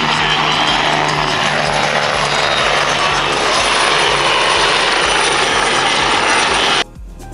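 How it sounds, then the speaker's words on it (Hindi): A loud helicopter at an air show in Beja, Portugal, with a steady, heavy rotor and engine roar filling the air, continuous and close, cutting off abruptly near the end. "अभी तो इनका ये हेलीकॉप्टर का शो हो रहा था"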